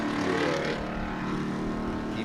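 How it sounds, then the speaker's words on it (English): A Mazda race car engine drones loudly at a distance at Sebring, a steady buzzing roar that holds evenly for a couple of seconds. "That's that noisy Mazda."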